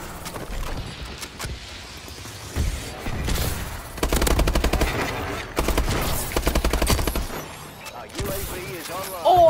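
Rapid bursts of automatic gunfire in the video game Call of Duty Advanced Warfare, loud and repeated in dense volleys with mechanical clatter, while a player talks over the action.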